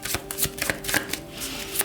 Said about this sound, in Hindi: तो चलिए शफल कर लेते हैं सिंह राशि लियो साइन के लिए।